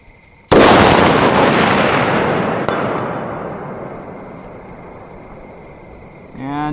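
A single loud 6x284 rifle shot fired at night practice toward a 600-yard target, with a sharp blast followed by a long rolling echo decaying over several seconds, then a faint distant impact.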